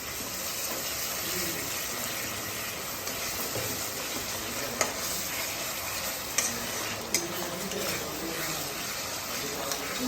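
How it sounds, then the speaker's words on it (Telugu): Onion, tomato and green chili cook in a small amount of oil with a continuous soft sizzle and a few sharp clicks from stirring, moderately quiet and steady. "డైరెక్ట్ కొంచెం ఆయిల్ తక్కువ వేసుకొని ఫ్రై అయితే చేస్తున్నాను"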